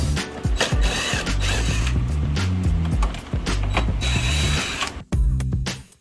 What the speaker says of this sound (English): To access the electrical compartment, I'll be removing 2 screws.